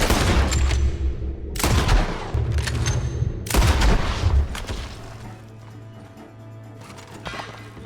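Gunfire in Red Dead Redemption 2 rings out in loud blasts at about 0, 1.6 and 3.5 seconds, each leaving a booming tail, then eases into quieter rumbling with faint clatter toward the end.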